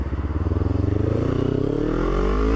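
A Kawasaki Ninja 250R motorcycle accelerates onto a freeway, its engine note climbing steadily in pitch, loud and close under a pulsing rumble of wind.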